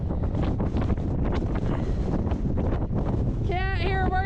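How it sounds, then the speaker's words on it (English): Strong wind buffets the microphone on an exposed mountain top, a loud continuous roar with gusty surges throughout, and near the end a brief tonal whine rises above the rumble. "That is crazy windy."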